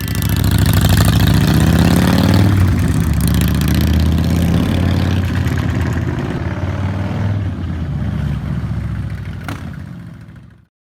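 A 2021 Honda Goldwing DCT motorcycle engine idles close up in a steady, loud low rumble, easing slightly toward the end before cutting off.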